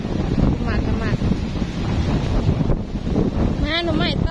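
Strong storm wind blowing during rainfall in a rural Thai outdoor setting, a steady loud broadband roar rushing into the microphone throughout, with a person talking over it.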